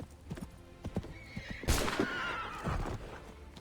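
A horse in the video game Assassin's Creed 3 whinnies loudly amid clip-clopping hooves, a sharp rising neigh near the middle with scattered hoof thuds before and after.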